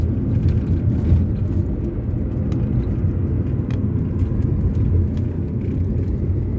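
City street traffic in Bangalore forms a steady, loud rumble of passing vehicles, with engine drone and occasional faint horn-like blips, and no break across the stretch.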